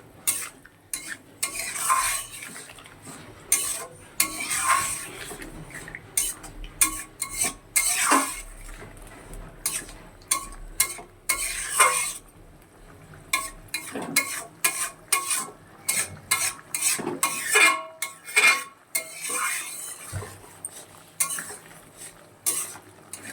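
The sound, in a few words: stirring and frying spice masala in a pan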